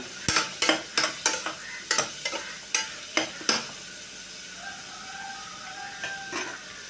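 Green chili is stirred in a hot pan for Ramadan nombu kanji: a quick run of rhythmic scraping strokes over a sizzle, then the stirring stops and a quieter frying hiss carries on.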